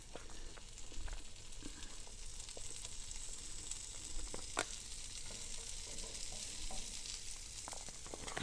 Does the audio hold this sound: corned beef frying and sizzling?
yes